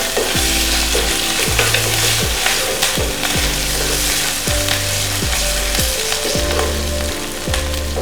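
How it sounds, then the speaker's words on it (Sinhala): Chopped ginger, about a teaspoon, sizzles in hot oil in a pan over lightly fried onions, a steady bright crackle running the whole time beneath background music with a plodding bass line. "මේකට ඉඟුරු තේ හැන්දක් විතර එකතු කරගන්නවා. ඒක ටිකක් බැදෙන්න දෙන්න."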